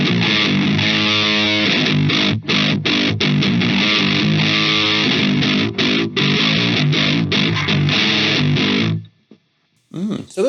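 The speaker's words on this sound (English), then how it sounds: "So let's give it some distortion now" Electric guitar played through a Belcat distortion pedal rings out loud and gritty, with sustained distorted chords and choppy strummed notes, then cuts out near the end.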